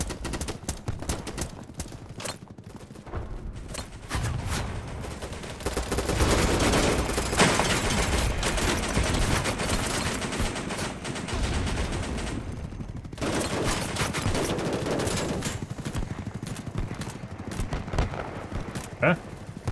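Rapid submachine gun fire from a Vector in the shooter game BattleBit, loud dense bursts running almost continuously with brief lulls, close and dominant throughout.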